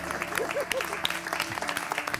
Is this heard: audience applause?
yes